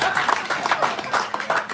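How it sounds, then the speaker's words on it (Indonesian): A crowd at a political rally in Bagan Datok claps in a brief burst of uneven hand strikes at moderate loudness, with rhythmic pulses through the whole moment. "Satu tepukan gemuruh kepada Syed Saddiq."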